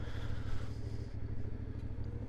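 A CFMOTO Ibex 450 adventure motorcycle rumbles steadily while being ridden, a close, continuous mid-pitched engine drone with wind noise and light clatter.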